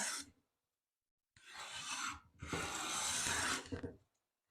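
A hand plane takes thin shavings off a beech board in close rasping strokes: one short pass, a pause, then two longer swishing passes, with no talking.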